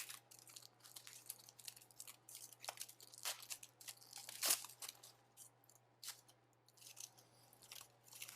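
Warm foil wrapping around roasted garlic being torn and crinkled open by hand, a quiet series of sharp crackling rips and crumples in an irregular rhythm, heard close up over a steady low hum.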